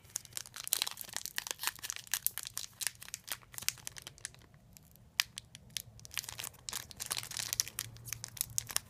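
A Yu-Gi-Oh Legendary Collection 5Ds card pack being torn open, heard as steady close crinkling and ripping of foil wrapper, with bursts of crackle throughout and a short quieter pause midway.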